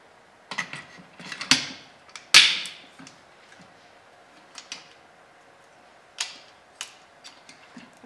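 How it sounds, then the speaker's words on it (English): Metal clicks, taps and scrapes as the upper receiver of a Hellfighter CA mod kit is fitted to a rifle, a sparse series of sharp close-up mechanical knocks with short pauses between them. "Let me go ahead and install this upper and complete this installation."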